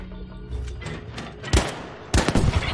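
Gunfire rings out on a shooting range in the video game Battlefield V: scattered shots over a rumbling background, then two sharp, loud bursts of rapid fire close by.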